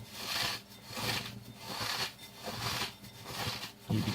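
Dry cornflakes being crumbled into fine crumbs by hand give a rhythmic, gritty crunching and rustling, about six rubbing bursts close to the microphone with short pauses between them, and no talking.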